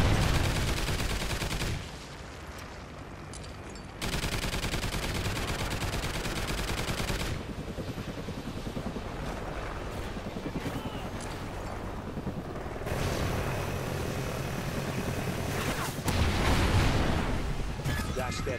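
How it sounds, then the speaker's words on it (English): Trinity rocket strike explosions in a military shooter, heavy booming blasts and rumbling barrages in loud sustained waves, with gunfire mixed through the dense battle noise. "Friendly Trinity rocket sounding inbound."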